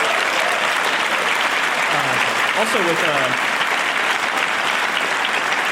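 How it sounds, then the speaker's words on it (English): A live podcast audience at AltConf gives a big round of applause, loud and sustained clapping filling the room, with a voice speaking briefly over it. "Can we give them a big round of applause as well?"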